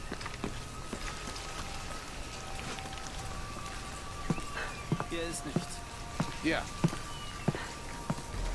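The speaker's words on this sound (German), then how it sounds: "Der Regen ist unnatürlich." Steady rain hiss fills the background of the video game Shadow of the Tomb Raider, with scattered thuds and short clanks breaking through now and then.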